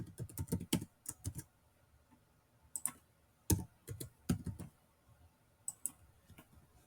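Password being typed on a computer keyboard: bursts of crisp, close key clicks in quick irregular runs separated by short pauses, alone with no talk.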